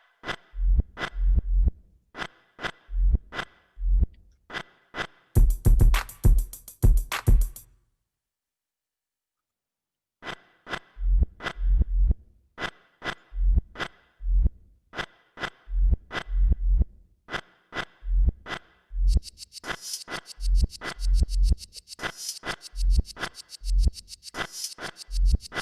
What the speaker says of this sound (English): So I wanted another drum pattern that was in reverse.